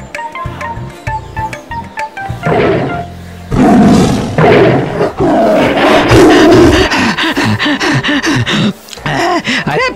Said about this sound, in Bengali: গ্রামে বাঘ ঢুকেছে।